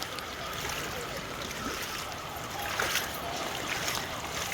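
Floodwater after heavy rain in Virudhunagar rushes through a large, brim-full drainage channel, a steady, close, churning roar of flowing water with no break.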